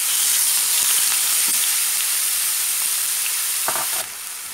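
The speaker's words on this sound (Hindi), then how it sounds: "ये जो तीनों चीज़ें हैं, गार्लिक, थोड़ा सा ओनियन एंड जिंजर, इसको आप थोड़ा सॉफ्ट करते हैं।" Garlic, a little onion and ginger softening in a karahi pan for chicken karahi, a loud continuous hiss of frying close by with a few faint clinks, dropping off abruptly near the end.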